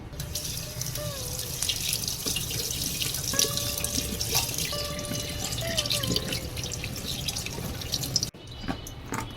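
Ridge gourd, pointed gourd and potatoes are washed under running water in a kitchen, with a continuous stream from the tap and soft splashing and dripping close by, then a brief pause near the end.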